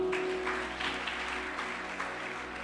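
A church congregation claps together during an evangelical service, a soft, steady patter of applause with a sustained organ or keyboard tone underneath.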